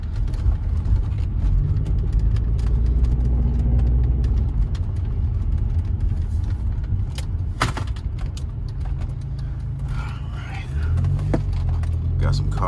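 A junkyard car from a pull-it-yourself yard drives on a road, its engine giving a steady low rumble throughout with brief shifts in tone, while someone talks quietly over it.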